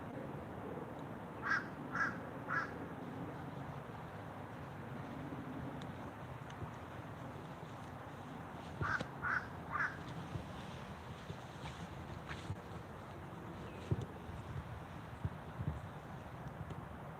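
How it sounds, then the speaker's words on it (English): Ravens give short harsh croaking calls in quick clusters of three, heard at moderate distance outdoors over faint wind noise, with a few scattered single calls later. "Are those ducks? Nah, those are ravens."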